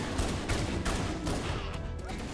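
Rapid pistol gunfire in the Halo CE Anniversary video game, dense overlapping shots with crashing effects in a busy, loud game mix.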